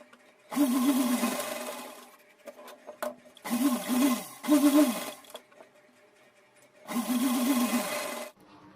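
Sewing machine stitching a small summer dress for a deity idol, running in three separate bursts of steady whirring with quiet pauses between them, close and clear with no talk.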